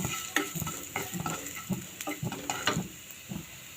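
Dried chili flakes being stirred into homemade pizza sauce, a series of soft scraping and clinking spoon strokes at an uneven rhythm, close and moderately quiet with a faint background hiss.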